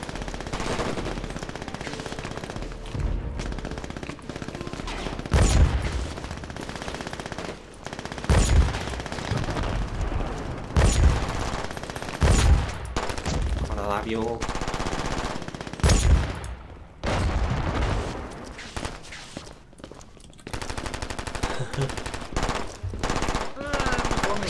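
Sustained machine-gun bursts in the shooter game Brink, rapid loud automatic fire in repeated long volleys with brief pauses, occasional voice chat underneath.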